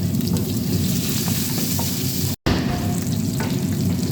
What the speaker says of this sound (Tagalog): mainit na yung ating uh, mantika. Ilalagay natin yung loya luya at saka bawang